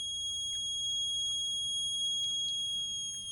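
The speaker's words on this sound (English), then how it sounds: "Once it detects any smoke, it makes a siren" Siren from a simple smoke alarm circuit with an MQ2 smoke sensor, set off by incense stick smoke: a continuous, loud, high-pitched electronic tone that holds steady throughout.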